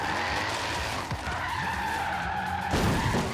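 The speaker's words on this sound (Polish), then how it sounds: "daje się tym samochodem fajnie driftować" A small roadster drifts in Forza Horizon 3, its tires squealing in a long sustained skid over engine noise, with a brief dip before the screech swells louder near the end.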